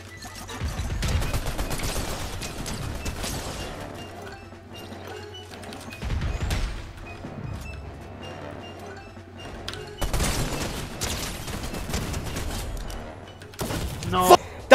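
Fortnite Chapter 5 gunfire, with loud bursts of rapid shots in several clusters mixed with impacts and crashes. A player talks excitedly between the bursts.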